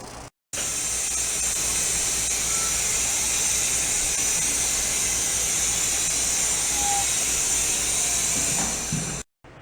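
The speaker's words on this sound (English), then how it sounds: "I'm going to throw some air in the tires." Air hisses steadily from a compressor hose into the tyres of a custom motorcycle in a workshop, a loud continuous rushing that holds unbroken for several seconds and then cuts off abruptly.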